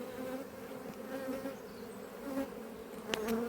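Swarming bees buzz in a steady, dense drone, with individual insects zipping close by now and then. There is no talking.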